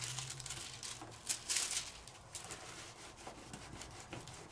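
Paper edge rubbed over with a finger to distress it for a scrapbooking card, a faint, dry scuffing and rasping in short repeated strokes, close and quiet.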